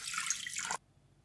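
Water poured into a stand mixer bowl for bread dough gives a close, bright splashing gush for under a second, then cuts off abruptly into near silence.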